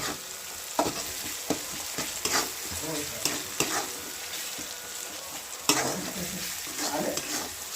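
Pav bhaji vegetables sizzle in a hot pan with salt, stirred with repeated scraping strokes at an uneven pace over a steady close frying hiss, with no talking.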